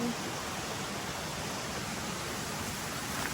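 A rushing forest stream swollen by recent rain, a continuous broadband roar of water, loud and close, steady with no breaks or voices.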